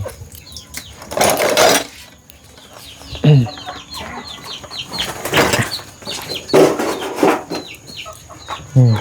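Chickens cluck and squawk loudly and close by in a Thai village yard, in irregular bursts with some wing flapping between them.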